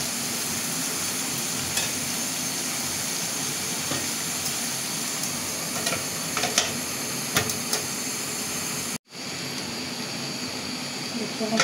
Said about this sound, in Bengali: এটা আমি সুন্দর করে ভাজা ভাজা করে নিয়ে নেব